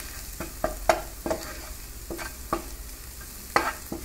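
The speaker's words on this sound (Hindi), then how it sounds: "हल्दी डालेंगे इसमें एंड मिक्स कुक कर लेते हैं पहले" A spoon stirs a cooking dish seasoned with turmeric in a pan, making sharp scraping knocks at irregular intervals over a faint, low sizzle, close by with no talking.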